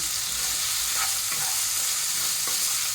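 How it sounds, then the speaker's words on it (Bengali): Chopped tomato is stir-fried in a hot pan with a loud, close, continuous sizzle, broken by a few scraping strokes of a spatula. "টমেটোটা দিয়ে ভালো করে কষিয়ে নেব।"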